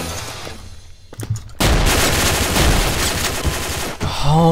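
Sustained assault rifle gunfire in the Garry's Mod M9K weapons pack, loud and dense, with rapid bursts of shots rolling on for about three seconds after a few quieter thumps.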